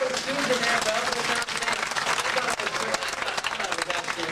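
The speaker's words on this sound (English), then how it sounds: "Let's have a big round of applause for Rob and Susan there, folks." Crowd applause for a couple at a gathering, dense continuous clapping at fairly close range with voices mixed in beneath it.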